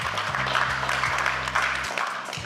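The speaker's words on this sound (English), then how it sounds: "Please help me to clap for her." An audience claps for a keynote speaker at a Nigerian event, a steady patter of applause heard throughout under a low hum, with no talking.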